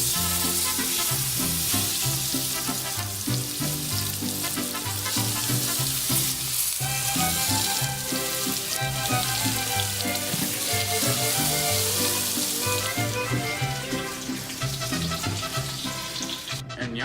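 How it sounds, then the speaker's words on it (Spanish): Chicken fries in a pan until golden, giving a loud, continuous sizzle with a tonal layer running steadily underneath throughout. "Añade el pollo en sartén y caliente hasta tostada"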